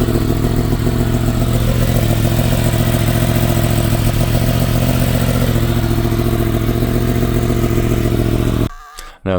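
A 2020 Yamaha MT-10 motorcycle engine runs steadily at a loud, close idle with a throaty, clattering rumble, then cuts off abruptly near the end.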